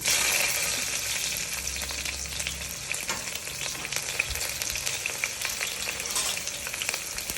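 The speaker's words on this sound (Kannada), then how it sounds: "ಸ್ವಲ್ಪ ಫ್ರೈ ಆಗಲಿ ಚೆನ್ನಾಗಿ" Mustard seeds, star anise, cinnamon, cloves and onion fry in hot oil inside a pressure cooker, crackling and sizzling densely and steadily up close, with a brief low rumble early on and no talking.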